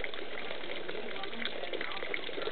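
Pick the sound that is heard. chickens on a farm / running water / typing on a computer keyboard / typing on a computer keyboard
running water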